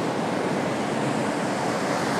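Rising river rushing fast over submerged rocks near a bridge, a steady, dense roar of flowing water, close and loud throughout with no pauses.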